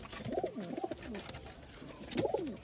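Pigeons coo close by in soft repeated phrases, two bursts early and another near the end, over a quiet background while young birds are being flown.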